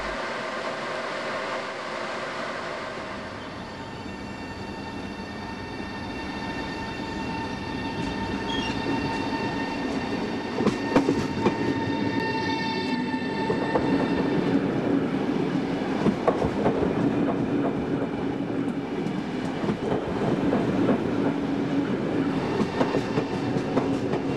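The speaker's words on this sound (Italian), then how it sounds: "treno ora in transito" A train rolls past steadily, with rumbling wheels, rhythmic clatter over rail joints and occasional metallic squeals, sustained throughout at moderate loudness.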